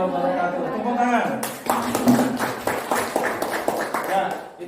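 Students break into brief applause after a group presentation in a school fiqh lesson, scattered claps rising and fading over a few seconds after a voice speaks at the start.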